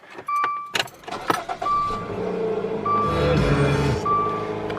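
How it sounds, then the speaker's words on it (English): A 2016 Dodge Dart SXT with a 2.4-liter engine starts up. Chimes and door beeps sound first, then the starter cranks briefly and the engine catches and settles into a steady idle, heard up close through an open door. "now we can get this car started up."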